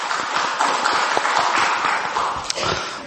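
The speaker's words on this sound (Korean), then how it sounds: "영광의 박수를 주님께 돌리십시다" A church congregation claps together in sustained, dense applause that stays loud and even for a few seconds, with no voices over it.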